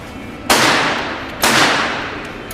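Two sharp gunshots ring out about a second apart at an indoor UK shooting range, each a loud close crack followed by a broad decaying reverberant tail, with no talking.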